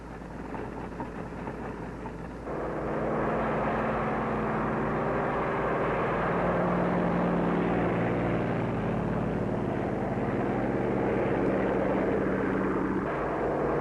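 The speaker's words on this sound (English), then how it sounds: "Also taking off from the carrier are control planes that will guide the radio-controlled drone boats." Loud, steady aircraft engine roar builds after a quieter start and holds, as planes power up and take off from an aircraft carrier.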